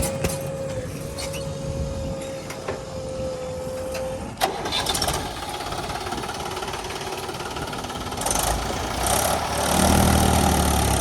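A Mahindra 275 DI tractor engine cranks and catches, then settles into a rough idle that grows louder near the end, with a brief tonal hum early on.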